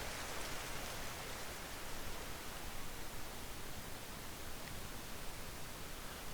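Steady hiss of rain in Trails Through Daybreak, a soft, even wash of falling water that stays constant throughout with no other sounds.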